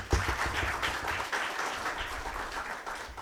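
Applause at a young CEOs' business forum, a dense steady patter of many hands filling the room, loud and continuous throughout with no talk over it.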